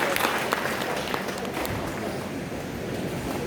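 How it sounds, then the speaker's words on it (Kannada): An audience claps at a felicitation event for a Yakshagana artist couple, producing a steady wash of applause that softens slightly toward the end. "ಚಪ್ಪಾಳೆ ಬಡಿರಿ, ಸುಮ್ಮನೆ ಹೀಗೆ ಮಾಡಬೇಡಿ"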